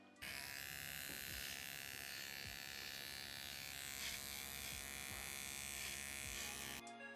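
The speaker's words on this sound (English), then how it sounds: "that very specific noise is the sound of the clippers removing hair from your head" Steady buzzing electric hair clippers run close up, with a brief crunchy rasp as they pass through hair, starting and stopping cleanly.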